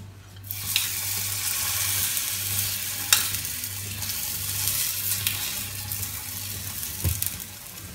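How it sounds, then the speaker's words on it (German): Oat schnitzel patties fry in hot rapeseed oil in a pan, giving a steady, close sizzle that runs the whole time, with a couple of sharp clinks and no talking. "jetzt braten wir unsere Haferschnitzel. Dazu habe ich etwas Rapsöl in der Pfanne heiß gemacht"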